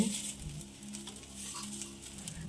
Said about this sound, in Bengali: বেগুনগুলো ভাজা হয়ে গেলে এর মধ্যে এবারে ড্রাই রোস্ট করা নিম পাতাগুলো দিয়ে দেব